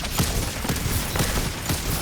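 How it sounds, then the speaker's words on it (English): A scout rifle fires in a competitive online shooter game in a rapid run of about five sharp reports amid dense, loud battle noise, with no talking. "Test out this scout rifle"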